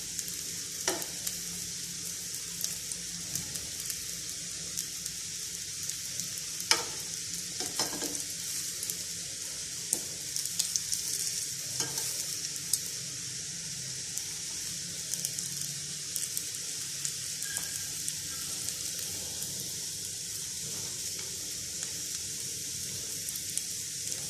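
Pieces of gram flour and egg omelette frying in a pan and turned to cook on all sides, a steady soft sizzle with occasional light clicks of the spatula, close but quiet, with no voices.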